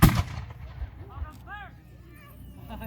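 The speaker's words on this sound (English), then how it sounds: "Every cannon firing in unison" A pirate cannon fires a single loud, sharp boom at the very start, followed by a fading rumble while voices talk nearby.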